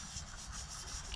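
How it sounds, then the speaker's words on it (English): Greasy exhaust headers for a 7th-generation Maxima are scuffed by hand before ceramic coating, giving a short, continuous abrasive rubbing, close and fairly quiet. "Scuffing it up is working, so let's keep doing that."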